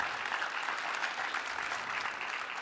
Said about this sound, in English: give a round of applause to the panelists